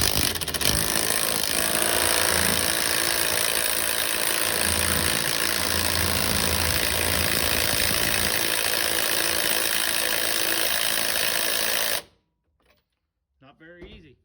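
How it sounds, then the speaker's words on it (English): An impact wrench drives a steering wheel puller on a Ford Ranger, hammering loudly and continuously for about twelve seconds before cutting off, followed by a brief voice in the quiet. "So got my impact. I'm just gonna see if how easy she's gonna come off."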